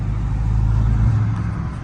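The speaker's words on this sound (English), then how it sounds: "Ooh, my car be popping like crazy." Dodge Charger Scat Pack V6 engine running loud and close, a steady low drone with a slight rise in revs; distinct exhaust pops are not clearly separable.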